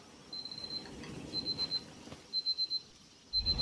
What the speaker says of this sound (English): So that's your alarm that I hear. Yes. See, that's for a landmine.